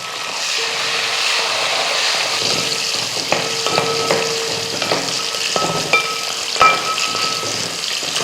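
Vadagam tempering frying in oil on low heat for raw mango vathal kuzhambu, an even crackling sizzle with several spoon knocks and scrapes against the pan toward the end, no speech.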